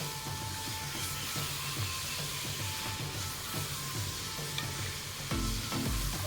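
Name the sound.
garlic ginger paste sizzling while frying in ghee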